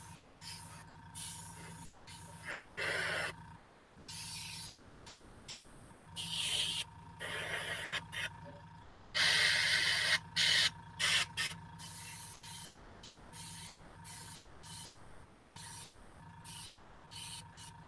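Spray gun hissing in short bursts while overspray lands on ZM tiles during a painting session, several separate blasts of varying length with brief pauses between, close and moderately loud, no talking.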